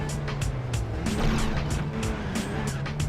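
A car drives in a retro video game, its steady droning engine tone shifting pitch under rapid, regular bursts of bright, crackling effects, loud and continuous without speech.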